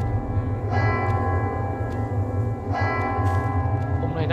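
Church bell tolling in an SCP horror video game, with sustained bell tones building twice over a dense, steady game soundscape, fairly loud throughout.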